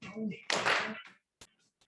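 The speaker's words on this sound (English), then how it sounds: "we're going to step forward and clap and come back." A person talks briefly during an exercise class, then a single sharp clap follows, with a couple of faint taps afterward in a quiet room.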